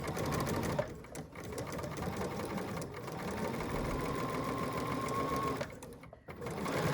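A sewing machine runs a close, narrow stitch in quilting work, humming steadily with a fast even rhythm and briefly pausing twice, fairly quiet and close with no talk.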